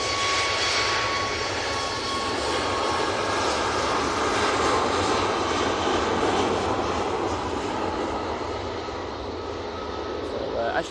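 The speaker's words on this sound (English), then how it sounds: "the Ryanair coming on down Bravo as we speak" Ryanair jet airliner on landing approach at Manchester Airport, its engines a steady, broad roar that holds throughout the stretch, with a voice commentating over it.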